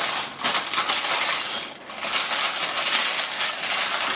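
Crinkly rustling and crumpling of baking paper as a pork loin is wrapped up for an overnight rest in the fridge, close and continuous with a brief pause midway.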